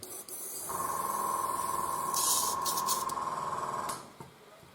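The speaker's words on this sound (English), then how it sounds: "a little less airbrush cleaner, just to clean a little the nozzle, and of course here on the front the needle" An airbrush sprays cleaner through its nozzle in one steady, continuous hiss lasting a few seconds, close and fairly quiet, cutting off cleanly at the end.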